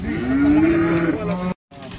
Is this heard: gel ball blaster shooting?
no